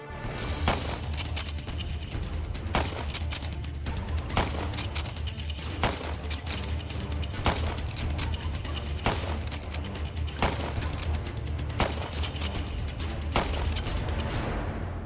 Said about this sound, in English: I'm firing one of the very first lever-action repeaters, a Henry rifle from the 1850s.